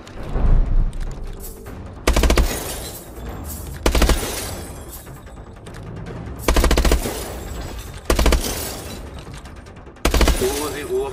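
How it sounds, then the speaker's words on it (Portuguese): Bursts of automatic gunfire at a shooting range training session in Call of Duty: Advanced Warfare. There are about five loud, sharp volleys separated by short pauses, with mechanical clatter and faint shattering between them. "Ativando o treinamento de tiro."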